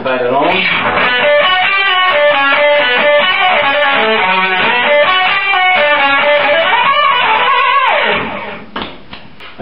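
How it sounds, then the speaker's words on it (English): Electric guitar played through an Octo-Elf octave pedal with distortion, a loud, buzzing riff of sustained chords and runs for several seconds, ending in a few scattered plucks and pick scrapes. "Okay, so now I'm going to demonstrate the Octo-Elf to you."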